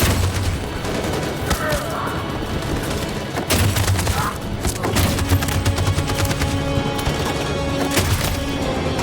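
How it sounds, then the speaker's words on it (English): Relentless machine-gun fire in the video game Detroit: Become Human, loud and unbroken with dense rapid shots, booming impacts and crashes, mixed with faint game voices. "That machine gun is taking down everything that moves!"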